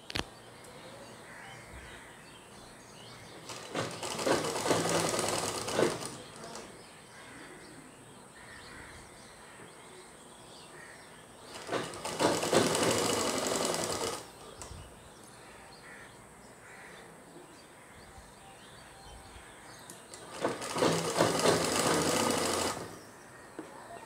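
A sewing machine stitching the side seam of a coat runs in three separate bursts of a few seconds each, with quieter pauses between them and crows cawing faintly in the background.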